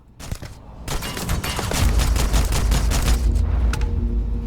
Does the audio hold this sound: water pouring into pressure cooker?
no